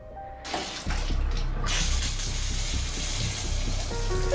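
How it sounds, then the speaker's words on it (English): Steady rushing water runs from a tap, starting with a soft trickle then turning into a constant, close, full flow. "the sound of the water running"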